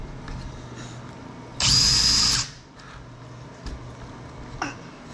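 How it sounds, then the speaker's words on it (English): A power drill runs in one loud burst of under a second during cabinet building in a workshop, then stops; a few faint clicks and taps follow. "Pick up the drill."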